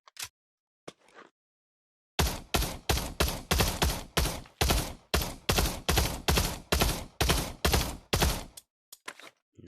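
Rapid gunfire from weapons fired at a gun range in the Pavlov VR video game: a dense run of about two dozen evenly spaced, loud, close shots, then a brief pause and a few final scattered shots.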